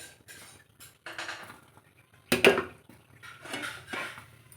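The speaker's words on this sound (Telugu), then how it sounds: "ఒక కడాయి పెట్టుకొని ఇందులో ఆయిల్ వేసుకోవాలి" A kadai is set on the stove and oil poured in, heard as a few sharp metallic clanks and knocks with one loud clatter midway, separated by quiet gaps.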